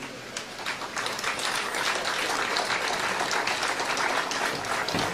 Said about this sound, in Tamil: பெண்கள் பாவம் சொதன்னு கைதட்டுறாங்க.